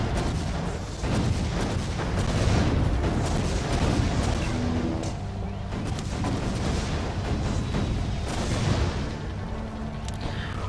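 Cannon towers fire in the Defense Grid video game, Borderlands DLC: a dense, continuous barrage of heavy booms and rumbling blasts that overlap without pause, loud and sustained.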